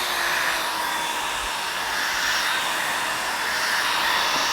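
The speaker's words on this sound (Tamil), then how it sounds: "இந்த மாதிரி ஒரு ஹேர் ட்ரையர் ப்ரஷ் வந்து வச்சுருக்கேன்" Hair dryer brush on its second setting blowing through dry hair, a steady close whooshing roar that holds evenly throughout with no talk.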